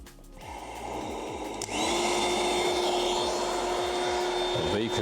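A vacuum cleaner starts up indoors, with handling noise, then a loud whine that rises and holds steady at full power.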